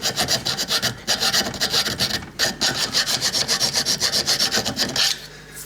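Rapid back-and-forth rasping of a metal file on wood, a rhythmic scraping stroke repeated many times, close and fairly loud, then stopping.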